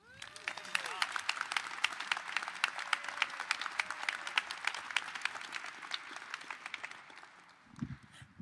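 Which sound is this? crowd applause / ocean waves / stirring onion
crowd applause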